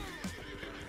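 A horse in Red Dead Online neighs once in a short, loud whinny over a steady background of game ambience and faint hoof clip-clop.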